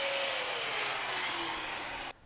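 Miele Capricorn S5980/S5981 canister vacuum cleaner running loud and steady with a whining motor tone that slowly drops in pitch, then cuts off abruptly near the end.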